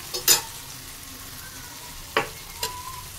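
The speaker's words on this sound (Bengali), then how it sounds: "পেঁয়াজ দিয়েছি, কালো জিরে ফোড়ন আর আলু। একটু নেড়ে দেবো।" Potatoes, onion and nigella seeds frying in a pan on a Bengali home stove, stirred with a few scrapes and clatters of the spoon over a soft, steady sizzle, close and fairly quiet.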